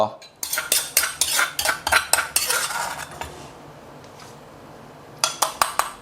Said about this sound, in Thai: พริกแห้งเม็ดเล็กครับ 15 เม็ด โขลกได้เลยครับ